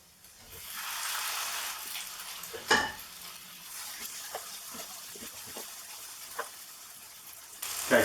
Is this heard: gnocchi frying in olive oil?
yes